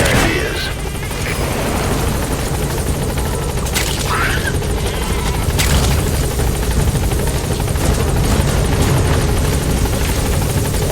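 A helicopter arrives in Metal Gear Solid V: The Phantom Pain, its loud steady rotor drone filling the whole stretch, with scattered game effects and faint voices over it.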